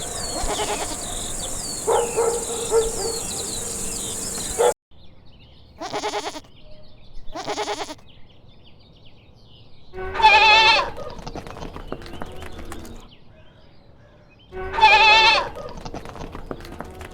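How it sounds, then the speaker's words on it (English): Goats bleat in several separate calls, each a loud wavering cry with quieter farmyard ambience in between, heard near and alone. "Goat."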